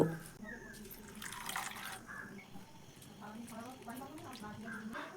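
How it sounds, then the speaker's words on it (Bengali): Flattened rice (chira) is rinsed in a bowl of water, with soft sloshing and dripping splashes running steadily throughout, fairly close and moderately quiet, with a voice talking faintly over parts of it. "আর এই চিড়েটা এবার 2 থেকে 3 বার জল পাল্টে পাল্টে ধুয়ে নেব।"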